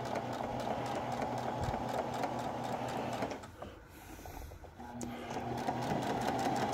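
A sewing machine stitches a facing onto a tabard in a fast, steady, close-up whir, pausing briefly midway before starting again.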